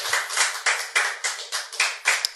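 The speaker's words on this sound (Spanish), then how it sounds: "Levántate una ofrenda de aplausos por esto." A church congregation applauding as an offering, brisk rhythmic clapping in steady pulses, loud and close, with no talk over it.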